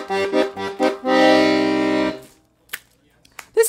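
Bass buttons of a Parrot LMM 34/96 accordion play a few short chord stabs, then one sustained reedy chord, followed by faint clicks and mechanical taps.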